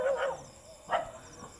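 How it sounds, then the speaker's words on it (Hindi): Dogs bark at night in a village area, a couple of sharp barks some distance away against a steady background of crickets. "यहाँ तो कुत्ते भौंक रहे हैं ज्यादा"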